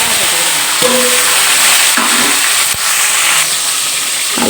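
Mustard seeds fry in hot oil for a banana-flower dumpling curry, producing a loud, dense sizzling hiss close by with a few sharp pops and crackles through it.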